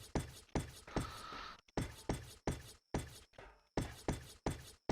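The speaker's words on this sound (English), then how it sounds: "Am I the only one that hates the sound of the greenhouse glass breaking?" Glass shattering repeatedly in ARK as a greenhouse pane breaks, a series of about ten sharp, close cracks in a steady rhythm, each with a bright crash and quick decay, no talk.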